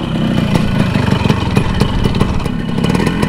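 A Yamaha RX100 motorcycle engine idles close by, with a steady, rough, throbbing rumble and a faint mechanical clatter.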